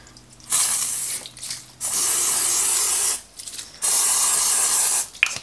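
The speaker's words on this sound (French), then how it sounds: "On va venir mettre un peu de spray cuisson par-dessus." Cooking spray hisses over rolled-out cinnamon roll dough in three long, steady bursts, close and loud, followed by one short final puff.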